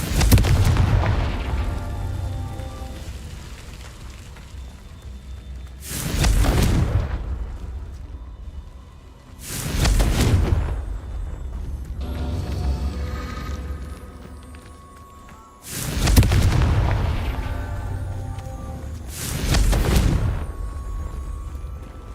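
Confringo spell explosions in the Hogwarts Legacy video game: five loud, deep booms spaced a few seconds apart, each rumbling and fading before the next.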